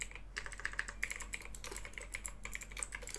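Light, quick tapping on a computer keyboard during spreadsheet-style data entry, keys clicking in an irregular steady stream, close and fairly quiet with no talk.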